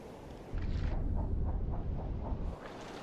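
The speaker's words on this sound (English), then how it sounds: "Torpedo Einschlag." A torpedo strikes a ship in a naval game set in the 1941 Mediterranean, a deep rumbling explosion that swells suddenly, rolls heavily for about two seconds and then fades back to a low background.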